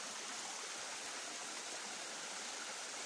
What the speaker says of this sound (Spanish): hay una cascadita, un manantial donde corre agua